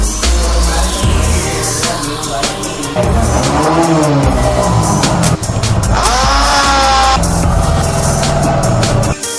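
A repaired RS200 motorcycle rides off on a test ride, its engine roaring loud and close with repeated revving, rising and falling pitch as it shifts through gears, and no voices over it.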